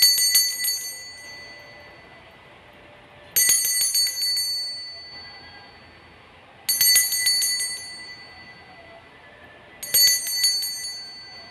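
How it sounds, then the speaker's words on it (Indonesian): A bright, metallic bell rings four times, each ring sharp at the start and fading slowly, spaced a few seconds apart in quiet. "kita akan memulai dengan ditandai lonceng berbunyi"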